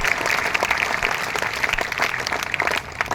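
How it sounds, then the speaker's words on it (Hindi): An audience at a college gathering claps loudly and steadily, a dense wash of many hands applauding together without letup. "तो उसके लिए जोरदार तालियां।"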